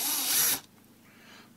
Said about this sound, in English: and the drill is working